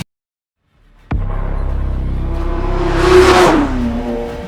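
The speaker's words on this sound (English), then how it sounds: "Hearing this car rev to 8K RPMs for the first time" A BMW E30 CS race car engine starts up abruptly and revs hard toward 8,000 RPM, a loud close-up rising howl that peaks and then settles into a high idle.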